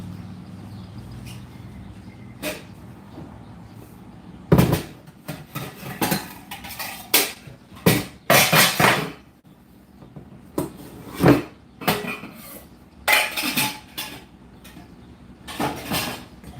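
A very large saucepan and metal utensils clatter around a home kitchen while making salted nut rolls, with close, loud bursts of clanks and scrapes coming in irregular clusters and no one speaking.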